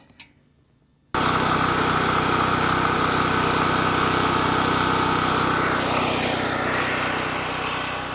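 After a short quiet moment, a small engine on a cheap Chinese mid-size generator starts up abruptly and keeps running at a steady, close, droning rumble; the engine is leaking oil.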